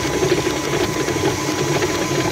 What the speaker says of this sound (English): So I wanna just get this going with our mixer.